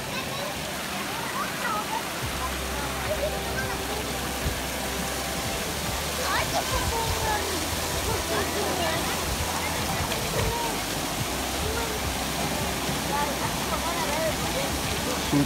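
Pure mountain water pouring into a small hillside pool, a steady, full rushing splash that goes on without a break, close by and loud.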